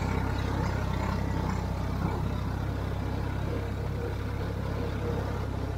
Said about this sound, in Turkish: Traktör bile kimi yerlerde çok zorlanıyor.